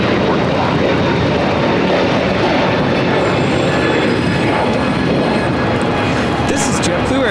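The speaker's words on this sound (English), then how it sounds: "This is JetBlue Airways 424 taking off to JFK on the A321neo." A JetBlue Airways A321neo takes off from LAX, a loud sustained engine roar with a high whine near the end, and a voice talks over it.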